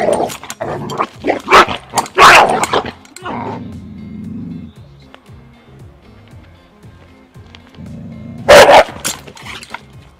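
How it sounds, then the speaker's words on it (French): An aggressive eight-month-old female dog at a training centre lets out sharp, close barks in a quick burst, goes quieter with low growly sounds, then barks hard again near the end, with people talking around her. "Donc je suis accompagné de Pacha, une chienne de 8 mois qui a un problème d'agressivité"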